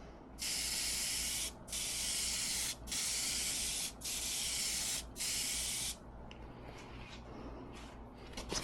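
A paint spray gun hisses in five steady, inconsistent bursts, each about a second long with short gaps, followed by quieter shuffling sounds.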